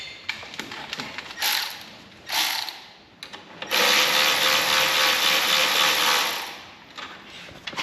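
A ratchet wrench turning a 15 mm socket on a tractor, heard as short bursts of rapid clicking followed by a longer sustained run of dense ratcheting, close and loud with brief pauses between strokes.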